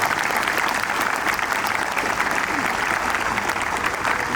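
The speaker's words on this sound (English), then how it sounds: "So big round of applause for the alumni to be here." A crowd claps loudly and continuously for visiting alumni at an annual school sports day at St Paul's College, Lucknow, a dense, sustained roar of applause with no talking over it.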